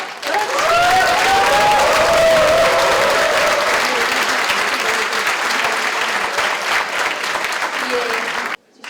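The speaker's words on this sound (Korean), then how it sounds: "힘찬 박수로" Loud, sustained applause from a large crowd at a Korean political party launch ceremony, continuous clapping that holds steady for about eight seconds before cutting off abruptly.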